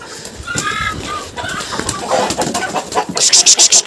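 Hens on a farmyard in icy winter weather, a cluster of nearby clucks and squawks followed by a rapid run of loud rhythmic cackling calls near the end.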